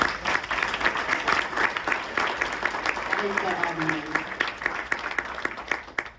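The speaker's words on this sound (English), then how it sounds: "So round of applause for them." Guests at a recovery charity's discovery dinner clap in a warm round of applause, individual claps audible in a lively patter that tapers slightly toward the end, with faint voices underneath.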